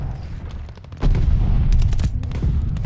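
A loud burst of rapid gunfire from a Call of Duty: Vanguard match crackles alongside heavy booming shots, dense and continuous with no pause, and no one speaks.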